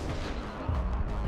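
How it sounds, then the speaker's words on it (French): Explosions in the video game Borderlands: The Pre-Sequel make a dense, loud run of booming blasts and gunfire-like rumbles that overlap with no gaps, continuous and heavy in the low end. "Ah, les explosions! Ouais. Oh, il y a trop d'explosions."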